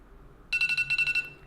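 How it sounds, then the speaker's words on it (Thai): iPhone X countdown timer alert, a rapid series of about nine bright electronic chime pulses in quick succession, clear and close over quiet background. "มันจะเป็นเสียงแจ้งเตือนพอเวลาเรามันนับครบถอยหลัง 10 วินาที"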